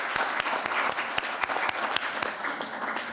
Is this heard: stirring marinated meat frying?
no